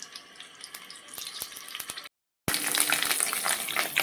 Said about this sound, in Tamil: பன்னீரை முழுசாகவே போட்டு ஃப்ரை பண்ணிடலாம்.